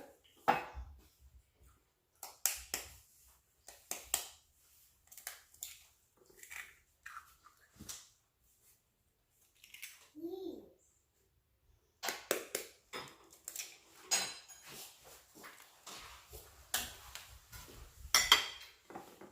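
A spatula stirring banana bread batter in a bowl, intermittent soft scraping and clacking strokes against the bowl, quiet and close, in irregular bursts separated by brief pauses.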